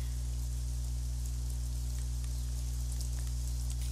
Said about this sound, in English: is raining.